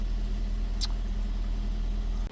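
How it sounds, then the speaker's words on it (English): A black 63-plate Skoda Citigo sits idling at a budget car auction, giving a steady low engine hum with a brief high hiss partway through before it cuts off at the end. "Engine sounds alright."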